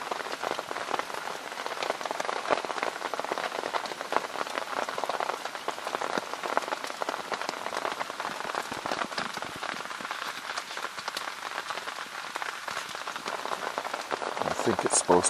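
Steady rain falls through the night, a dense, even patter of drops on surfaces, nearby and continuous for the whole stretch, with no voices.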